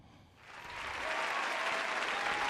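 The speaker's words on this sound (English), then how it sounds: "Applause." A crowd bursts into applause that swells within the first half second and then holds as a steady, dense wash of clapping.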